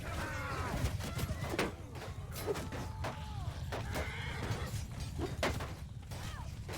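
Cavalry horses charging in a Bannerlord Realm of Thrones battle, a chaotic mix of neighing and whinnying, hoof thuds, clashing and metallic impacts, dense and continuous at mid distance.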